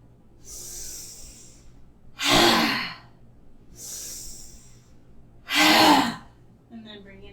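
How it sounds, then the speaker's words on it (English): During a yoga class for anxiety, a person breathes in softly, then forcefully exhales with a loud, breathy 'ha' sound with the tongue out. The pattern repeats twice, alternating quiet hissing inhales with strong, close exhalations. "exhaling out with a ha sound and a tongue out"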